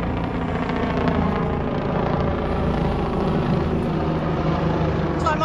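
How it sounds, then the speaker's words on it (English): A helicopter flies overhead near cold coastal sea water in New Zealand, its rotor and engine drone loud, steady and continuous with a low throbbing beat throughout. "Helicopter."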